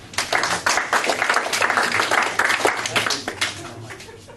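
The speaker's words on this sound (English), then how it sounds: "give him a round of applause" An audience claps for a volunteer taking a seat at a live stage show, with brisk, dense applause running throughout and a few voices under it.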